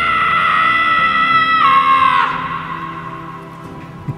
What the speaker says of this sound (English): Scream if you need to dull the pain.